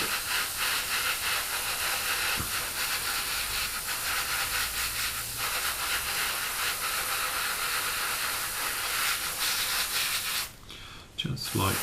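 An airbrush lays a light coat of black paint onto a part of a 1/32 Hasegawa P-40 model aircraft, a steady close hiss running nearly continuously with a brief break near the end.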